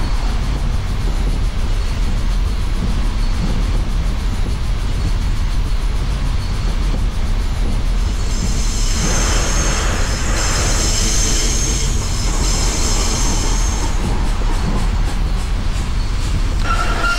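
A Br 95 steam locomotive accelerates in Train Simulator 2015, a loud, continuous rumble of rolling rail traffic with wheel noise and a bright hissing, squealing band rising midway, no voices.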